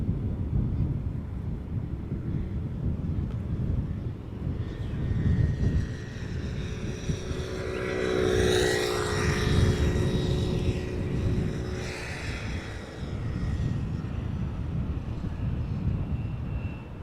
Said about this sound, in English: And here's the A330neo going to center, arriving from Seattle.